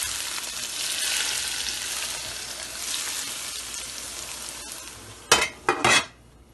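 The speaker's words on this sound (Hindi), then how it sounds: "हमने तेल सिर्फ गरम किया है और गरम करके इस पे डालेंगे" Hot oil is poured over steaming plain rice for an Afghani Bamiyan pulao, giving a steady frying sizzle that fades slowly, then three sharp bursts of hissing splatter near the end.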